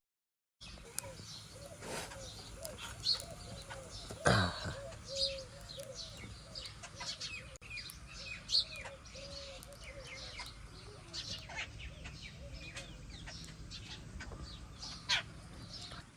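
Small birds chirp and twitter intermittently in short, scattered calls over a quiet outdoor background, with a brief word spoken faintly.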